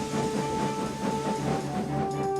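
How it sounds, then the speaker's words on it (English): In a Roblox game, a steam locomotive hauls a long line of heavy freight cars, chuffing in a steady, muffled rhythm with an ongoing hiss and a faint high whistle-like tone. "His boiler strained, his wheels started to turn, and the mighty engine chuffed away."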